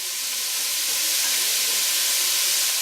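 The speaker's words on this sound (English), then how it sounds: "So we'll let that saute up for a little while, 5 to 8 minutes." Sauerbraten meat sauteing in a pan, a loud continuous bright sizzle with steady hiss and no break, no talk.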